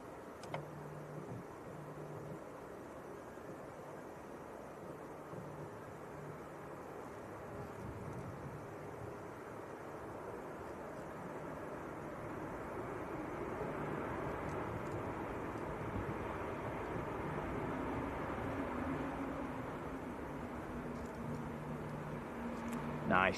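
A big Airbus A350-1000 arriving from Doha at Manchester Airport, its broad engine roar rising gradually from a distant rumble to a steady, louder wash over the runway.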